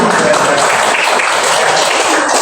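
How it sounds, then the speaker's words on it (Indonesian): Classroom students clap together for a classmate, a steady dense patter of hands that stays loud and even throughout, with a faint voice mixed in. "Wih, tepuk tangan untuk Opik, sangat semangat."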